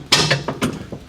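Seat of a Polaris RZR UTV latching down onto a lowering base kit, a quick series of close mechanical clicks and clunks from the latch and frame, with no talking.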